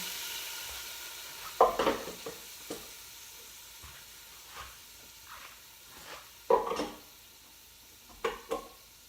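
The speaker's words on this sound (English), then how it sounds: "I'm going to turn this down so that I can get the tomatoes going" Tomatoes cook down in a pot for okra gumbo, heard as soft steady sizzling with several sharp stirring scrapes and clinks scattered through it.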